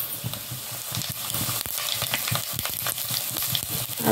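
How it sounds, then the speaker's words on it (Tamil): Fennel seeds, cumin and dried chillies fry in hot oil for semiya rava upma, a dense, steady crackling sizzle with occasional scraping stirs, close and loud with no talking. "அது போட்டு அதை வறுத்து எடுத்துக்கலாம்."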